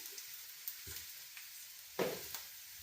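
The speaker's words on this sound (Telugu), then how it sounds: "తాలింపులోకి వేసుకోవాలన్నమాట కారం అయితే మాత్రం" Chili powder goes into hot tempering oil with fried onions for bisi bele bath, giving a faint, steady frying sizzle with a couple of brief spoon-and-pan scrapes.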